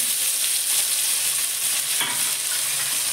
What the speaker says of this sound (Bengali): কাঁচা লঙ্কা ফোড়ন দিলাম, টমেটোটা দিয়ে দিলাম